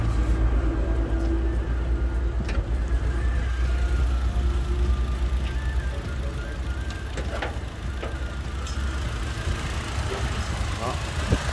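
A 2010 Toyota Innova engine idles nearby with a steady, even, continuous low rumble that holds throughout, with faint background sounds over it.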